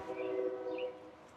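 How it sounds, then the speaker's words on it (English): Faint, distant train passing near a garden, heard as a low sustained horn-like tone that holds for about a second and then fades, with no other sounds around it. "Our train"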